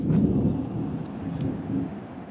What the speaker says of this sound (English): I'm just going to shut a window just in case it starts raining because this noise is ridiculous.